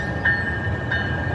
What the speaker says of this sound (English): We'll have the train, we'll give it a moment to go by.